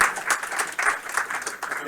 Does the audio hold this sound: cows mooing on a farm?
no